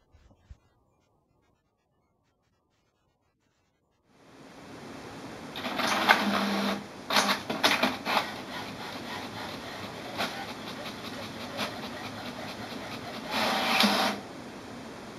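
An HP Ink Tank Wireless 415 series printer starts up after about four seconds of silence and runs a two-sided print job. Its feed rolls and print carriage whir and clatter in uneven mechanical bursts, close and moderately loud, with no talking.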